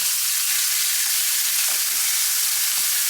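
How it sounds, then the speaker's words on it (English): Bacon sizzles and spits in a hot pan alongside a beef burger patty cooking for a BBQ bacon burger, a continuous close frying hiss with a few soft stirring or shifting sounds and no talk. "So now, just add in the bacon."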